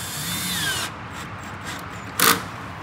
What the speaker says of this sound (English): just tightening down the hose between the banjo valve and the bulkhead for the chemical tank